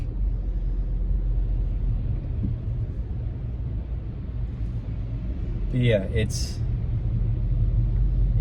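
Steady low road rumble and engine drone from inside a car stuck in traffic, continuous throughout, with someone talking over it and a brief higher squeak or whine near the end.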